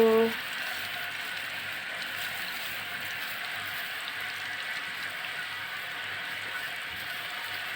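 Steady, dense crackling and sizzling of chicken skin deep frying in hot oil continues throughout, with a faint voice at the very start.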